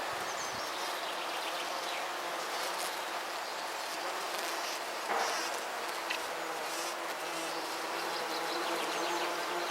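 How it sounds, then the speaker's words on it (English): Many bees and other insects buzz steadily around a flowering goat's beard bush in a June garden, a dense, continuous hum lasting throughout, fairly close and constant with no talking. "You hear the bees. Look how many bees and things there are on this bush."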